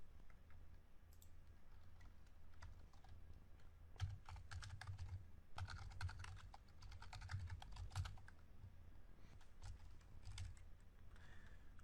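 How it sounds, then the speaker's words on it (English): Steady typing on a computer keyboard while entering PL/SQL code, a continuous run of close, crisp key clicks with irregular rhythm and occasional louder taps, with no talk. "Now let's output it."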